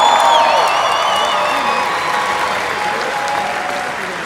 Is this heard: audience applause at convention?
yes